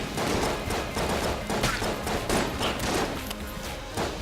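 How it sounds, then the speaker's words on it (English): Firecracker dynamite blowing up in the Enter the Gungeon video game, heard as a dense run of loud, crackling bursts and thuds packed closely together for several seconds, with no talk over it. "Yeah, I don't like the new explosion sound."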